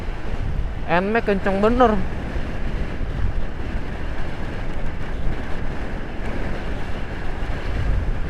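Strong wind buffets a rider on the Pantura road in Subang, Indonesia, producing a loud, constant low rumbling roar throughout. A voice speaks briefly near the start.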